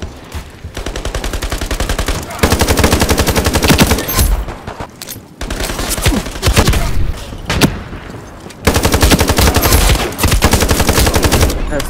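Rapid automatic gunfire from a shooting video game rattles in long, loud bursts separated by brief pauses, with occasional single shots in between.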